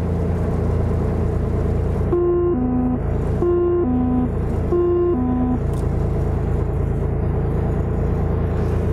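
A light aircraft engine drones steadily and loudly throughout, with three repeated pairs of two-tone electronic beeps sounding over it partway through.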